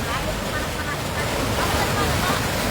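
Floodwater rushing swiftly and overflowing its banks in a flooded village, a loud continuous roaring wash with wind buffeting the microphone throughout.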